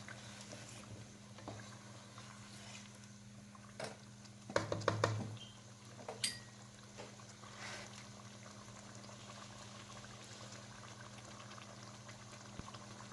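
Punjabi-style mutton curry with whole green chillies bubbles softly in a pot. It makes a faint, steady simmer, with a brief cluster of clinks and stirring in the middle.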